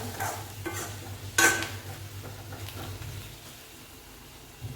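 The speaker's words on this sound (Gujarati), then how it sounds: "થોડો એવો ધાણા જીરું પાવડર નાખીશું અને સારી રીતે મિક્સ કરી દઈશું" Gunda sambharo, a spiced glue-berry relish with coriander-cumin powder, is stirred in a pan, with soft scraping and a brief louder clatter over a low sizzle, quiet and close, with no talk.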